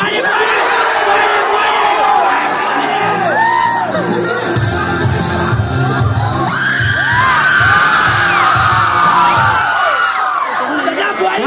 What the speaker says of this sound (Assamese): মই যিমানটো দেখিছোঁ ল'ৰাখিনিৰ মাজত বেছিকৈ চিঞৰিছে বোৱাৰী নাম।